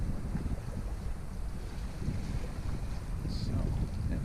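A puff of wind rushing over the microphone aboard a sailboat on the waters around Door County, a steady broadband buffeting with water and boat noise beneath it.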